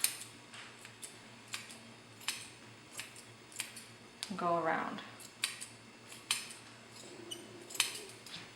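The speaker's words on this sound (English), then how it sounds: "Take the scissors" Repeated crisp snips of grooming scissors trimming a Lagotto puppy's beard fur, a dozen or so evenly spaced cuts close to the microphone, with a brief spoken phrase and a short whine in the middle.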